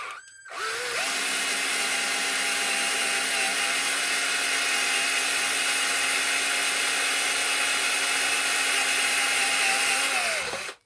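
An 8mm drill bit bores into an aluminium tube held in a vise, a loud steady whine running for about ten seconds after a brief start, then cutting off abruptly.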